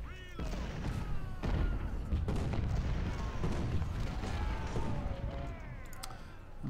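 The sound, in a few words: artillery fire, Ultimate General: Civil War video game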